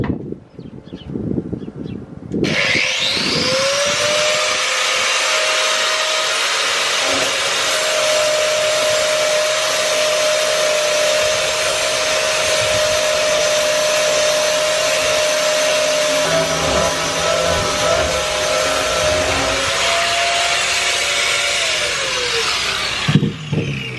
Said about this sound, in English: take all this back with a grinder, get back to the gel coat, the fibres